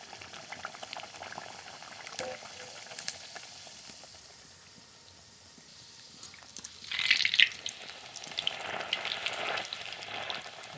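Luchi frying in white oil in a kadai, a steady low sizzle and bubbling that swells into a louder, crackling burst midway before settling into a busier fry.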